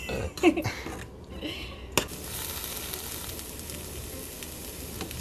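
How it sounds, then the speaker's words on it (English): Baby eggplant dry roasts in a pan on the stovetop, giving a steady close sizzle with a few sharp clatters at the start. "we're taking our baby eggplant and we're just dry roasting it on the stove, not the oven"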